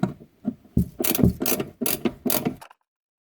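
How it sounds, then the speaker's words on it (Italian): Screws being driven into the hinge mounting plate of an IKEA Besta cabinet, a series of about six short whirring bursts from a close, loud driver with brief pauses between them, then quiet. "Quindi andiamo ad avvitare."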